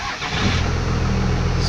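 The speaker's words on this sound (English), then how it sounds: "I'll show you guys a remote start from inside." A 1996 Dodge 2500 diesel engine cranks by remote start and catches, settling into a loud, steady low rumble close by.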